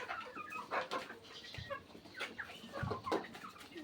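Hens cluck on a farm flock of about a hundred birds, a few soft, scattered calls rising and falling over a quiet background with no talk.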